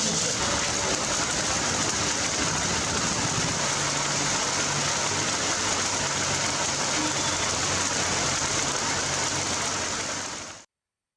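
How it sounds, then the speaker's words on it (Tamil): Heavy rain falls during a storm in Kodaikanal, making a dense, steady hiss that continues unbroken for about ten seconds before stopping abruptly. "கொடைக்கானலில் இருள் சூழ்ந்து இடியுடன் கூடிய கனமழை பெய்தது."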